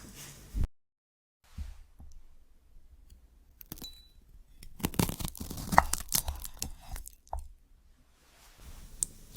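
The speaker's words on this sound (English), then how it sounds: "So the cutting sound and also touching the wood." AI-generated ASMR sound of wood being cut and touched, close and quiet, with crisp tearing, squishing and crackling textures that come in irregular bursts between near-silent gaps.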